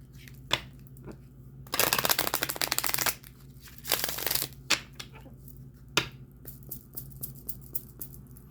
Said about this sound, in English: trying to shuffle some business cards